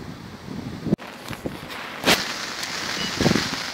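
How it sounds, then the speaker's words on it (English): Strong gusts sweep across a lake shore in irregular rushing bursts and buffet the microphone, with a sharp knock near the start and no one speaking. "The wind is really going for it now."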